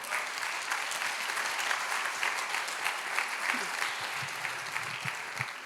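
A church audience gives steady, sustained applause for the Lord, dense clapping that holds evenly throughout with faint crowd murmur underneath.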